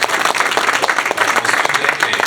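Audience applause bursts out for a speaker at a mental health awareness and education talk, a dense, steady wash of many hands clapping at close range, filling the whole stretch without pause.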